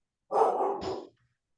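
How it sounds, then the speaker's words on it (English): Loki, a dog, lets out a single short bark, moderately close and clear, in an otherwise quiet room. "That's my sister's dog"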